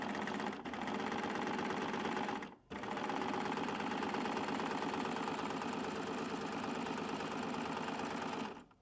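A serger sewing machine stitches while a zipper is inserted, running in a steady continuous whir with two brief pauses, close and fairly quiet, with no talking.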